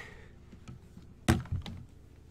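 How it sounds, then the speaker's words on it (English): A kitchen door being shut, heard as one sharp, close thump followed by a softer rattle and settling knock, against a quiet room background. "I'm just gonna shut that door."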